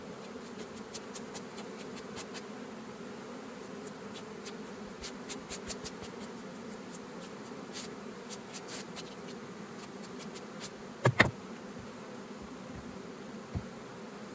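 A faint, steady buzz of bees hums throughout during honey extraction from hive frames, with scattered light clicks and scrapes over it.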